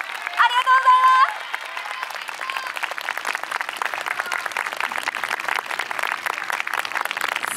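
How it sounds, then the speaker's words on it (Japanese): At an awards ceremony during the YOSAKOI Takamatsu dance festival, a crowd applauds with continuous, evenly spread clapping from a large outdoor audience. A voice briefly speaks over the clapping at the start. "大きな拍手をお願いいたします"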